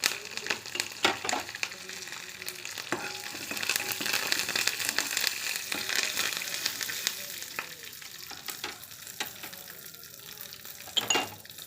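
Curry leaves and dried red chillies sizzle steadily in hot oil in a pan while a sesame chutney is cooked, with stirring and scraping clatter over the continuous frying and no talking.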